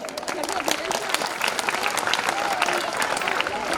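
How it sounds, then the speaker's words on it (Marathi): Audience applause at a school annual gathering, cheering student dance performers: dense, steady clapping from a sizable crowd, sustained and fairly loud throughout with no pauses, with some crowd noise mixed in. "फक्त टाळ्यांचा आवाज येऊ द्या"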